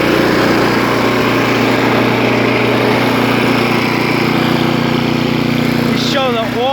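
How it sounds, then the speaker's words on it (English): A Tecumseh Snow King 358cc flathead engine on a 2002 Snapper 9266E heavy-duty snowblower runs at a steady, loud, even drone close by, with a brief higher whine near the end. "Purrs like a kitten. Tecumseh Snow King Flathead 358cc."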